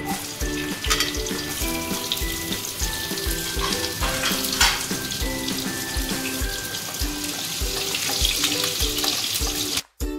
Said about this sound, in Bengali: এবারে রসুন কুচিটা দিয়ে দেবো